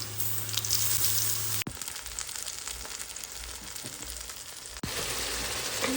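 Chickpea bhuna fries in a pan with a steady, close hiss of sizzling oil, broken twice by brief sharp clicks of a utensil or pan.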